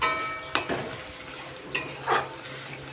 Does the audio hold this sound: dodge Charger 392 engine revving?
no